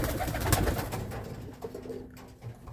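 Roller pigeons coo outdoors in a soft, continuous, layered murmur. Several birds sound close by, with light rustling among them.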